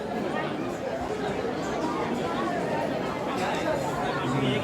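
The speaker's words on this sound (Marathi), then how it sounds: "हे बघा गर्दी समोर" A dense crowd of devotees murmurs and chatters at Ganpatipule temple in Ratnagiri, a steady close hubbub of many overlapping voices with no single speaker standing out.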